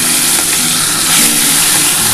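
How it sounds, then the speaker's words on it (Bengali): Bata fish frying in hot oil in a pan, giving a loud, steady, dense sizzle and crackle that continues without a break. "আমার তেলটা কিন্তু গরম হয়ে গেছে। আমি এবার মাছগুলো দিয়ে দিচ্ছি।"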